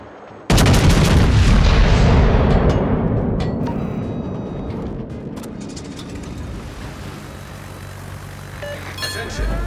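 Heavy naval gunfire from a warship's main battery in World of Warships, a huge broadband boom at the start rolling into a long, slowly fading rumble with faint clinks and game sounds behind it.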